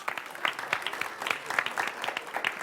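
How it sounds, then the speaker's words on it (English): Parents give a round of applause for children at a library reading event, a moderate patter of hand claps from a small crowd, fairly close and sustained. "will you join me right now in giving these respectful kid listeners a big round of applause?"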